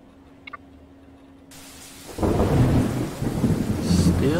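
A video game thunderstorm: near-silence with a faint hum, then a sudden wash of rain noise that swells into a loud, rolling rumble of thunder, all without speech.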